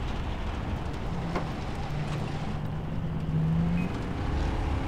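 A car driven fast in Far Cry 3 gives off a continuous loud engine drone with a steady hum, close and constant throughout, nothing else over it.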